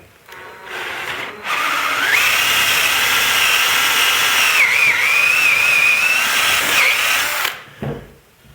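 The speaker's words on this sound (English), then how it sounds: "I'm going to just run the drill bit through and clean out" A power drill whines continuously for several seconds, its pitch dipping and wavering as the bit bores out hardened glue in a woodworking vise part, then spins down and stops.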